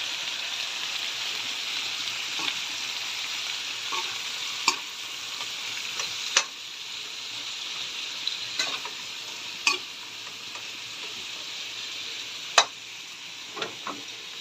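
String beans stir-frying for adobo in a hot pan, a steady bright sizzle with scattered sharp clicks and scrapes of stirring, fairly close and with no talking.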